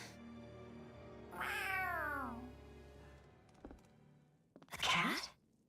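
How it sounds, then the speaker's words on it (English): In the video game Tales of Arise, a cat gives a drawn-out meow, followed by a soft thunk and then a second louder, shorter meow close by, with no voices. "A cat? Where'd it come from?"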